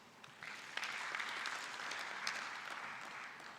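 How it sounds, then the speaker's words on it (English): Audience applause closing a panel discussion on manufacturing in SADC countries: a soft, distant-sounding bed of many hands clapping, rising slightly after the start and holding steady to the end. "you all deserve a big round of an applause"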